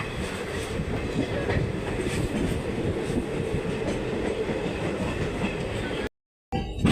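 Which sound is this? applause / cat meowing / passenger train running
passenger train running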